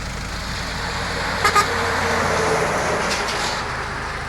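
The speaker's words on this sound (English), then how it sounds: "There's another truck for you." A truck passing on a mountain pass road in New Zealand's Lindis Pass, a loud sustained broad road roar with two brief horn-like toots partway through.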